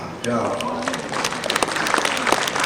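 Audience applause at a Hindi poetry recital, a steady wash of clapping throughout the short stretch, moderately loud and close, with a voice faintly beneath it.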